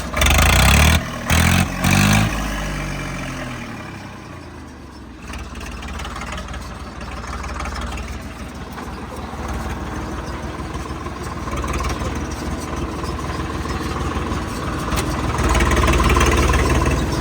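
A tractor engine fitted with an aftermarket silencer revs with a deep, throaty roar, idles, then builds again, loud and close, with no talk.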